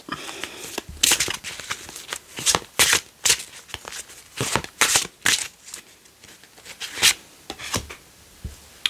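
Large tarot cards being shuffled by hand, a run of crisp riffling and slapping bursts repeating irregularly at close range, with no talk over them.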